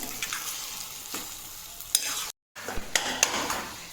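Fenugreek seeds roasting in ghee while being stirred, quiet sizzling broken by repeated scraping strokes of a spoon against the pan, with a brief silent gap midway.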